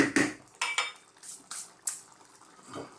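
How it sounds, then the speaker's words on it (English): A spoon knocks and scrapes against a pot of chicken and lentil curry, several loud clanks in bursts with a wet stirring texture between them, close by. "Give it a stir every now and then"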